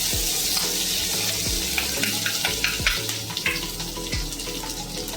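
Onion-garlic masala paste with turmeric sautéing in oil, a close, loud sizzle with repeated stirring scrapes against the pan and some clinking, continuous and without speech.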